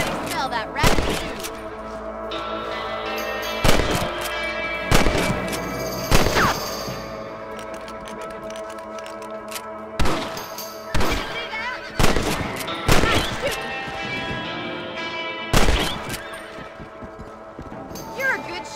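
Loud gunshots from a rabbit hunt in the video game Red Dead Redemption ring out in about a dozen sharp, irregular blasts. Hoofbeats clop between them and a voice talks.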